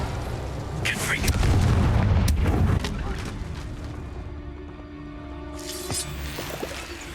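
A Confringo blasting spell explodes in the video game Hogwarts Legacy, a loud, deep, rumbling boom with crackling debris that swells and then fades into lighter game effects and a low, ringing tail.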